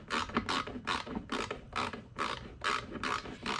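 Rhythmic rasping and ratcheting from hand tools working on the fuel petcock of a Yamaha Grizzly 125 ATV, about a dozen quick repeated strokes, close and fairly quiet, with no talking.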